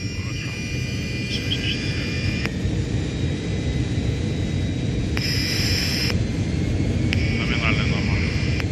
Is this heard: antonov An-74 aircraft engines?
yes